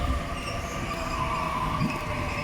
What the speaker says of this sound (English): here we have a Penrith service arriving on platform 4